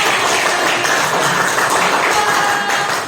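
Classroom applause for a student discussion group, a loud, steady wash of many hands clapping together from a crowd of students, continuous and even throughout with no talk.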